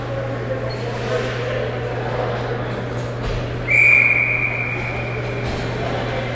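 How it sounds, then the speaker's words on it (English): Referee's whistle blown for icing in a youth hockey game, a single sharp high blast in the middle of the clip, over rink ambience, a steady low hum and a commentator talking. "we're going to get the whistle as once more we'll have icing on Hill Academy"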